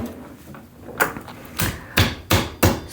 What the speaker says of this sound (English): So you smash your garlic clove to peel it.